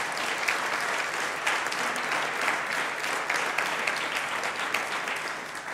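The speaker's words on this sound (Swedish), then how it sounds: "Ge dem en varm applåd." An award-ceremony audience applauds warmly, a dense, steady wash of clapping from a large crowd that carries on unbroken for the whole stretch, with no talk over it.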